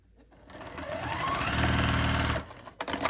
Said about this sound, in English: I'm going to start with the first 2 pieces in the first row and sew these together